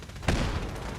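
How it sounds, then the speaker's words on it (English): Distant gunfire rumbles behind the scene in the video game Fallout 4, a single low boom followed by a sustained noisy wash, fairly faint. "Gunfire in the background."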